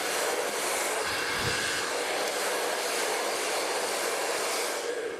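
A hair dryer blows steadily on curled hair on a styling dummy, a continuous loud airy roar lasting the whole stretch with no talk over it.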